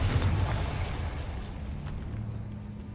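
Confringo blasting spell detonating in Hogwarts Legacy inside a decayed catacomb, a single low booming explosion at the start that rumbles and fades over a few seconds.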